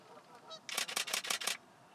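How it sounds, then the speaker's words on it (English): Two geese honk at each other in a quick, faint burst of five or six harsh calls lasting under a second, heard from a distance with nothing else around. "There's a couple of geese having an argument."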